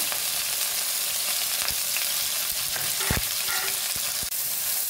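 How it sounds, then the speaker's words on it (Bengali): Chicken pieces fry in hot oil in a pan, a steady, close sizzle lasting the whole stretch, with a few faint clinks of stirring. "আমি যেটুকুনি চিকেন করব সেই চিকেনগুলোকে আগে ভালো করে ভেজে নেব।"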